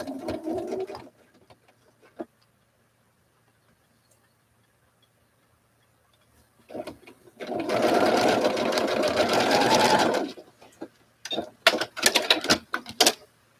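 A sewing machine stitches fabric in one steady, fairly loud run of about three seconds, with faint talk at the start and scattered clicks and handling noises afterward.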